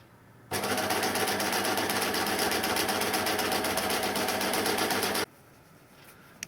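A sewing machine runs steadily while stitching a sleeve hem for dressmaking, one continuous loud, even whirr of about five seconds that starts and stops abruptly, with no talk over it.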